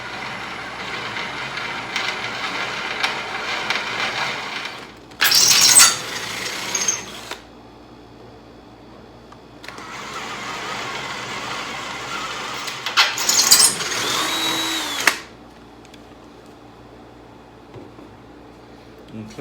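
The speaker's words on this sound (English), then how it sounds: "so now we'll drill it out to a bigger hole" A power drill enlarges a 1/8-inch pilot hole in metal in two long bursts with pauses between, its whine rising sharply as the bit bites near the end of each run.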